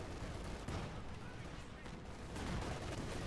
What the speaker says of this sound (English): Units retreating through the Katyusha barrage.